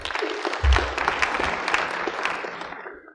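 A stand-up comedy audience in 1995 breaks into a burst of applause, dense and lively at first and then thinning out and fading away, with a dull thump early on.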